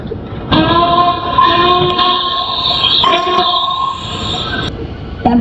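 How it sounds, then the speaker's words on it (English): A steam engine's whistle blows in a long, loud, sustained blast with a brief break partway through, heard near and alone against a steady rumble of rail noise. "Suddenly, a whistle blew."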